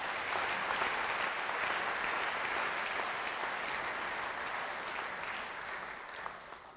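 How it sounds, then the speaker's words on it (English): Sustained applause from a university audience at a memorial lecture congregation, a dense, steady wash of clapping that fades slightly toward the end. "Can we have another round of applause, please?"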